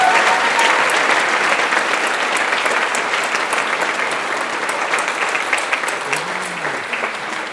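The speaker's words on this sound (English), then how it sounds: "Let's give a round of applause to Deborah." Sustained applause from a large graduation ceremony audience, dense steady clapping filling the hall for several seconds, slowly tapering near the end.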